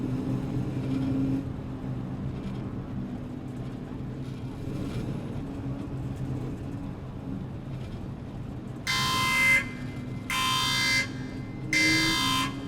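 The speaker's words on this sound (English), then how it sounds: "This audible and visual alarm is received by the vehicle's crew" A VCR 8x8 Dragon armored vehicle warning alarm in ARMA 3 sounds as three loud, evenly spaced electronic buzzer tones, each lasting about a second, over a steady low engine rumble inside the vehicle.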